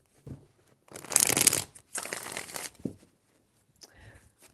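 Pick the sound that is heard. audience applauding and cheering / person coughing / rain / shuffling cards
shuffling cards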